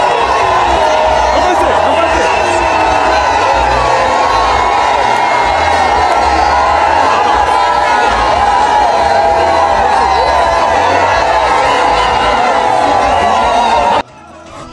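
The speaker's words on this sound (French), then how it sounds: "C'est dans les acclamations et ovations frénétiques que la distinguée première dame Denise Nyakeru Tshisekedi a accédé à l'esplanade de la permanence du parti." A crowd cheering and giving frenzied ovations at an outdoor party gathering as the first lady arrives on the esplanade, loud and continuous with shouts and whoops, cutting off near the end.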